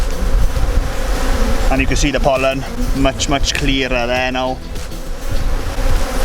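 Buckfast cross Welsh Black honey bees buzzing steadily around an open hive in June, loud and close, with wind noise and a person talking over the humming swarm.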